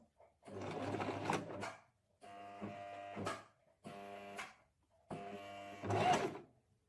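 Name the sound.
sewing machine topstitching a bag organiser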